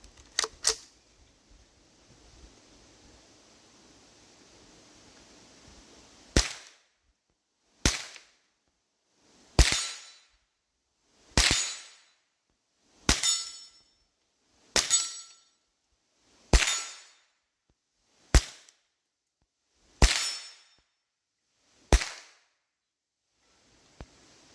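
About ten sharp gunshots strike a metal target 40 yards away, each leaving a bright ringing clang that fades. They come at a steady pace of roughly one every second and a half after a few faint taps, with no talking.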